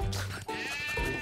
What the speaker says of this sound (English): Whoa, you have a lot more sheep.